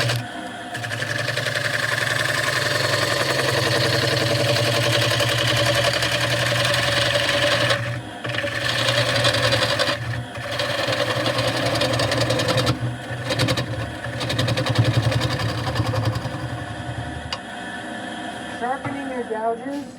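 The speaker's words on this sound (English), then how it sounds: "sharpening your gouges is just such an important part of wood turning" A bench grinder whines continuously while wood turning gouges are sharpened, with brief dips in the motor sound and a person talking over it.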